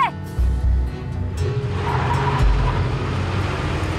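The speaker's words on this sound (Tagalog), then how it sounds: "Paandarin mo na yung kotse!" A car revs up and pulls away under tense shouted dialogue in a Filipino drama, its engine rumbling loud and close with a rising whine, a brief tire squeal near the start, and people yelling over the engine.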